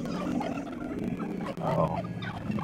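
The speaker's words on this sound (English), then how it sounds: "So many turkeys." Turkeys gobbling in the video game Far Cry 5, a busy flock of bird calls close by that runs on continuously, with a brief exclamation from a player partway through.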